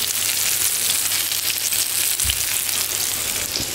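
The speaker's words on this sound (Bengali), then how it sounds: "মাছ ভাজা।" Hilsa fish fries in hot oil with a continuous crackling sizzle, close and even throughout, with one soft thump partway through.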